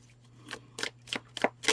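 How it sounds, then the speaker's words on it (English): A new tarot card deck is shuffled by hand, giving five or six quick, close riffling bursts in a steady rhythm, crisp and fairly quiet, with no talk over them. "new decks are always so hard to shuffle"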